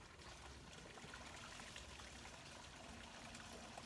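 Water flowing steadily in a natural stream, a dense, continuous trickling and rushing wash that stays even in loudness throughout with no voices.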